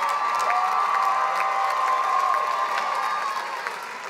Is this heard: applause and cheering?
yes